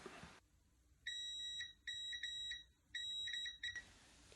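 A multimeter gives continuity beeps while wiring on a repaired controller is tested. The short, faint, high tones stutter on and off in a broken pattern over quiet room noise.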